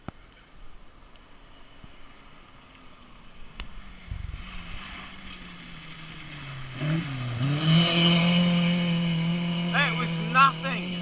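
Racing vehicle engine on a hot lap, heard from a distance at first then rising as it nears, revving hard with audible pitch drops at gear changes, under someone talking.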